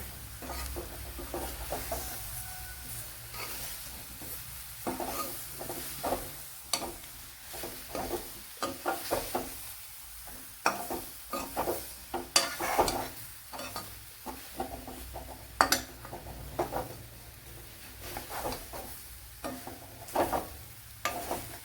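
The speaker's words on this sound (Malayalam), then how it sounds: "ഇതിലേക്ക് ഇനി നമ്മുടെ സ്വീറ്റ് പൊട്ടാറ്റോ ചേർത്ത് കൊടുക്കാം" Sweet potato pieces tossed into a hot pan for a curry, stirred with a spoon against the metal in repeated scraping strokes over a steady, close sizzle of frying.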